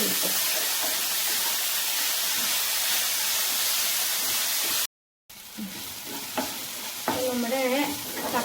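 Tomatoes for kothu chapati fry loudly in a pan with a dense, steady hiss. After a brief cut, spatula stirring scrapes through the sizzle in quick strokes.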